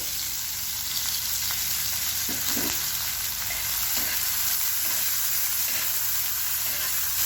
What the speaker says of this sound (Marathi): तेलामध्ये टाकणार आहे हिरवी मिरची, हिरवी मिरची आपली चांगली परतून झाली की टाकणार आहे टोमॅटो